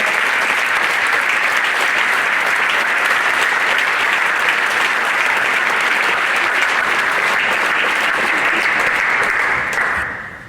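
At a Reykjanesbær athlete of the year ceremony, a hall audience applauds a group with dense, loud, sustained clapping for about ten seconds before it quickly dies away.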